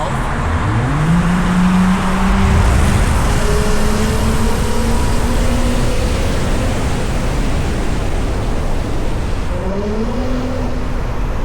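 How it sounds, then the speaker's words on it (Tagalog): A car exhaust with the valve removed revs loudly nearby, its engine note rising and falling in long swells over a constant roar, then climbing again near the end. "Exhaust testing. This is without the valve."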